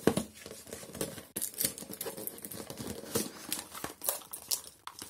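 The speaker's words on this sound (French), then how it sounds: "on va passer au déballage" Cardboard and plastic packaging of a connected E14 smart bulb being unboxed, with irregular snips, crinkles and tearing at close range and no speech.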